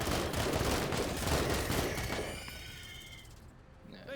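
A dense burst of rapid gunfire rattles continuously for about two seconds in the Menace video game, then tails off into quieter fading echoes.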